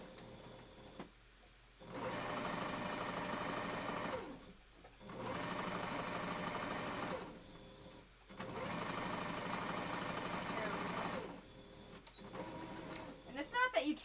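A sewing machine backstitches a wolf fursuit tail, whirring in three long, even runs separated by short pauses, close and steady, with a few clicks between runs.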